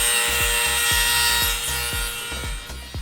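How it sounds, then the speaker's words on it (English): Small rubber brackets are sanded down by hand in a shop working on a twin-turbo Lamborghini. The rasping strokes repeat in a steady rhythm, about two per second, close and moderately loud. "He's sanding these down so those little rubber things can fit right here."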